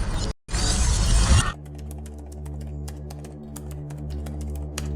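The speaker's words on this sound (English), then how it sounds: "do a match right here with a mirror being violently broken" A mirror smashed violently in The Signifier video game, one loud burst of shattering glass lasting about a second, followed by a low hum with scattered faint ticks and clicks.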